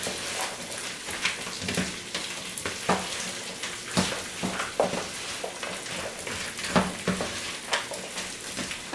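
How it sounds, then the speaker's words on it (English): Italian sausage fries in a pan on the stove, giving off a steady, moderately quiet sizzle. Irregular crackles and pops sound alone throughout, with no talk. "I have Italian sausage cooking on the stove, so that's the noise you hear in the background."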